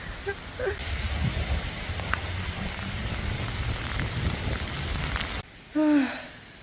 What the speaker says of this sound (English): it was a very long uphill rainy walk to the lodge